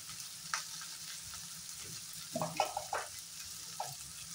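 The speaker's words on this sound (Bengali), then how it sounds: "পেঁয়াজ, ক্যাপসিকাম, টমেটো এগুলো আর কাঁচা লঙ্কা এগুলো সব আমি ফ্রাই করে নেব।" Onion, capsicum, tomato, green chili and garlic frying in a pan, a steady low sizzle with scattered scraping stir strokes, moderately close and fairly quiet, no voices.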